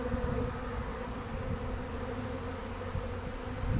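A honey bee swarm moving into a modified Warre bait hive gives a steady, dense buzzing drone from many bees that holds evenly throughout and stays close and fairly loud.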